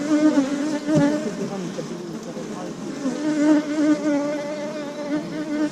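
Honeybees crowd a hive frame, their dense, wavering buzz close and steady throughout with no break.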